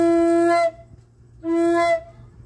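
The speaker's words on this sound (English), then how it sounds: "kind of hopping to like an overblow sound like this" Two overblown tones on a walking stick drone flute, each a bright harmonic-rich squeal lasting about half a second, separated by a short gap, played close and clear with no talking.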